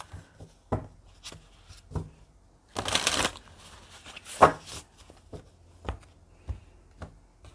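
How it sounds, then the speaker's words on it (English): Tarot cards are handled close up: a quick riffling shuffle in the middle, surrounded by sparse soft taps and slides as individual cards are pulled and laid down. "Let's pull some cards and let's see if we get the backstory."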